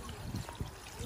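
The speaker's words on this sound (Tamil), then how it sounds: "இப்போ தேவை அளவு வந்து தண்ணி விடுக்கோம்" Water poured into a pan while cooking a Tamil-style crab curry, a soft, steady trickling stream with slight splashes, close and fairly quiet.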